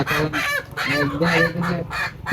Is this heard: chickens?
yes